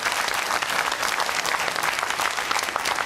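Audience applause at a public talk about HS2 and rail funding, dense and steady for the whole stretch, loud and close enough to swamp a speaker, whose voice is barely traceable beneath it.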